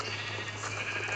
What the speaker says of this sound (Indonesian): Domba, ayo gerak.